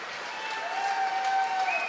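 A home crowd in North Bay applauds Canada's win at the Ford World Women's Curling Championship, steady clapping heard at a distance with a commentator talking over it.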